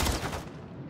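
Gunfire in the Warzone video game, a brief loud burst of rapid shots that ends almost at once and fades into a short decaying tail, with no talking.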